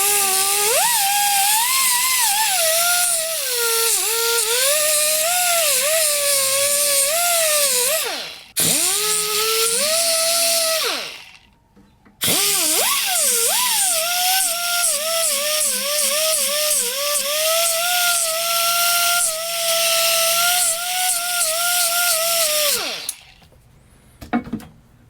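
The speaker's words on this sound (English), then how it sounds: "See if I can't use the sander and sand this down just a little bit." Electric sander working down a thick elbow part on an old barn-find Murray push mower: a loud, high whirring buzz that wavers in pitch as pressure changes, stopping briefly twice before running on again.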